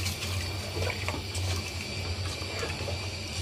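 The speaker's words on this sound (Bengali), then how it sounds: "এখন আমি কুসুম কুসুম গরম পানি দিয়ে দিলাম।" Lukewarm water poured into a pot of haleem with meat and spices, a steady, continuous watery rush at moderate volume that runs evenly throughout with no talking.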